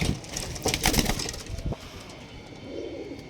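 Pigeons, some of them match-racing birds, coo in a loft or shop, with soft bird calls and scattered rustling and knocks in between, moderately near and unaccompanied by talk.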